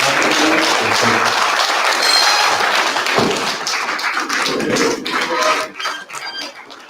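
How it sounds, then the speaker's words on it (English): An audience at a Nigerian university registrars' association gathering claps loudly and continuously, a dense applause that thins out toward the end. "Can we continue to clap from before"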